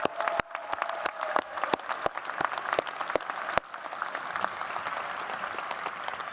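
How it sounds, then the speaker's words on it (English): Commencement audience applause for event volunteers, a steady crowd of clapping with some sharp individual claps standing out, moderately loud throughout. "let's also give a round of applause for all our volunteers who've been working tirelessly since morning to make this happen"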